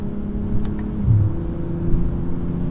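A 2023 BMW M340i in sport mode, its engine note boosted by synthetic sound, heard as a steady, low, throaty drone inside the cabin with a slight swell, moderately loud.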